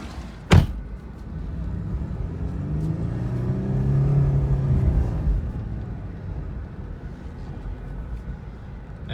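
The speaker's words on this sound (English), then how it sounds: "we're gonna sink right down into the mud here. But it just crawls." Mercedes E320 all-wheel drive car crawling slowly through deep mud, a steady low engine rumble that swells and eases, opening with a sharp thump.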